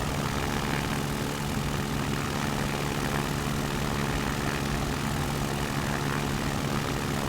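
Steady, loud propeller engine drone of a tail dragger aircraft in the X-Plane 11 flight simulator, holding an even idling hum with no breaks and no voices.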